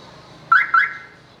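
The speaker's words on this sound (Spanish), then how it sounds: "para que vean cómo se activa la alarma automáticamente" Two quick electronic chirps from an Ultra UT5100 Pro car alarm auto-activating on a Renault Kwid, short and close together, over a faint background hum.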